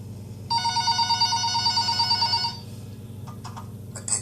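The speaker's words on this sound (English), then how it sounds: "the phone on the counter rang." Telephone on a store counter rings with a steady electronic trill for about two seconds over a low background hum, then stops, leaving faint clicks.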